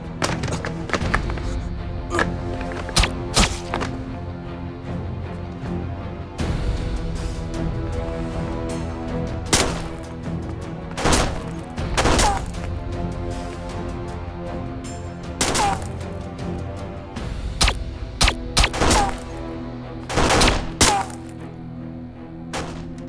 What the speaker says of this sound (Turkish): Birileri ateş ediyor